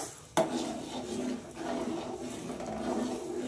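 A ladle stirs rice into boiling milk for payesh in a pot, opening with a sharp knock against the rim and then a continuous rubbing, scraping stir, close and steady, no voices.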